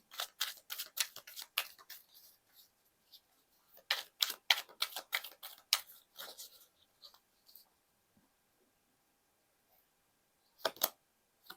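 Tarot cards are shuffled and a card is drawn from the deck, making quick papery flicks and snaps close by. The sound comes in bursts, then goes quiet before one last flick.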